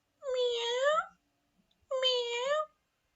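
A person imitates a gentle, affectionate cat with two drawn-out, soft meows separated by a short pause, each clear and close with nothing else around them.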